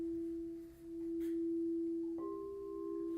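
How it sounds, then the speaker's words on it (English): A Crystal Tones crystal singing bowl, tuned as a solar plexus bowl, rings with a steady, pure sustained tone that swells slightly, then takes on a second higher overtone near the end, with no voices. "this happens to be a solar plexus bowl"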